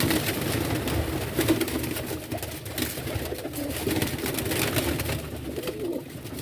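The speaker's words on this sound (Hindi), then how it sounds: "ये आया कबूतर" A pigeon coos softly and repeatedly against a constant, noisy background hum, with the low calls blending into the steady ambience.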